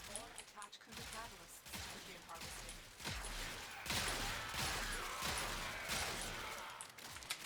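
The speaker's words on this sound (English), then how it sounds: "So you see with Shotgun Barrage, it shoots a lot quicker." The Tenet Arca Plasmor shotgun in the Warframe video game fires rapidly with Shotgun Barrage active, producing dense, continuous overlapping blasts with layered sci-fi crackle throughout.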